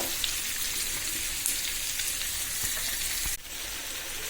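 Koi fish fry in a pan with a steady, moderately soft sizzle that runs throughout, broken by a brief clunk near the end.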